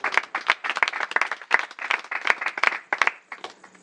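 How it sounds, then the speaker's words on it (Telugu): A congregation at a pastor's gospel sermon claps loudly together in dense, irregular bursts that continue steadily for several seconds, close by, then thin out toward the end. "కొట్టు చప్పట్లు ఒకసారి గట్టిగా."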